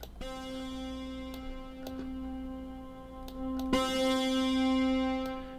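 A second synth lead from the chorus of a self-made song plays sustained buzzy notes rich in harmonics, punctuated by sharp ticking percussive hits, with the tone shifting brighter partway through and no speech.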